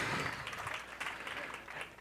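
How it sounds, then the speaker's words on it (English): A quiet round of audience applause at a talk on spying in post-9/11 America, brief scattered clapping that sounds distant and soft, tapering across two seconds. "If you could give her a round of applause."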